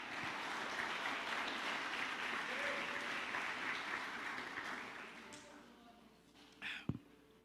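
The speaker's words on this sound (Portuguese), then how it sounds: "vamos aplaudir ao nosso Deus" A church congregation claps in praise to God during a worship service, steady diffuse applause for about five seconds that fades away, followed by a couple of brief thumps near the end.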